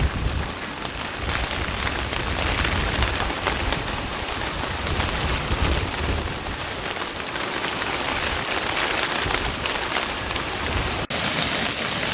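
Heavy rain pours down steadily during a storm in Sri Lanka, a dense, loud, continuous hiss of drops hitting surfaces with no pauses.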